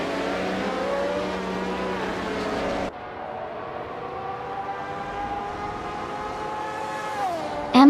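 1971 McLaren M19A and rival race cars in a racing video game, engines droning steadily at high revs, one engine note cutting off sharply partway through while another carries on, pitch dipping near the end.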